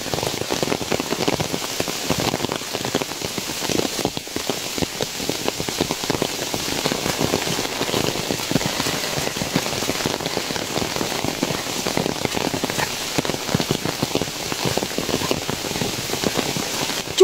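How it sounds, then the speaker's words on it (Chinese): Heavy rain falls on a mountain path and forest ridge in the Qinling range near Muwang town. It is a steady, dense patter that stays loud and even throughout, with no voices. "现在听一下这个雨声"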